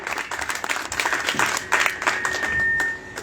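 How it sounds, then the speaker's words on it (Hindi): Audience applause, a dense patter of many hands clapping steadily at moderate volume for a few seconds before tapering off. "इन्हें तालियों से स्वागत करिए"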